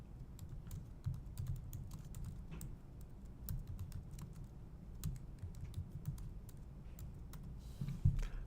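Comments being typed on a computer keyboard: a long run of quick, light key clicks at an uneven pace over a low background hum, fairly quiet and close, with no speech.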